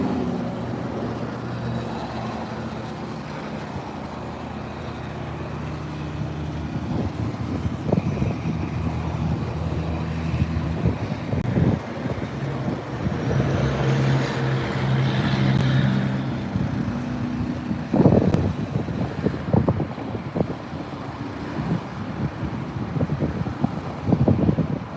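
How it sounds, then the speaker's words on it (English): Strong wind blowing outdoors on a very cold day, steady broadband rushing and buffeting against the microphone, with gusty thumps growing stronger toward the end and no talking. "It's so super windy."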